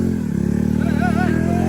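Motorcycle on a jungle bike test, engine revving loudly up close with a rising, wavering whine over a rough low rumble and some clattering, with no voices.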